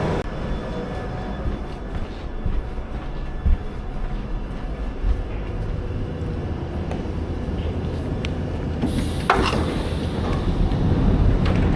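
A London Underground Piccadilly line train rumbles steadily nearby, its low roar building toward the end, with a brief high screech of wheels or brakes near the close and no talking.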